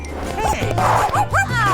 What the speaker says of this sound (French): Oh mon joli chien.